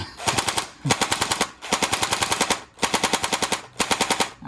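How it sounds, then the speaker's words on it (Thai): A CZ805 Bren gel blaster with a repaired magazine fires in full-auto, four close, loud bursts of rapid, evenly spaced mechanical shots separated by short gaps, continuing until the magazine runs empty. "ผมจะลองดูยิงดูว่ามันหมดแม็กไหมนะ"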